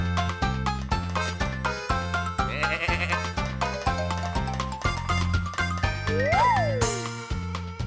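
Cartoonish sheep bleats from a children's tractor cartoon wobble over a bouncy musical score, with a rising and falling bleat near the end and a bright chime at the close.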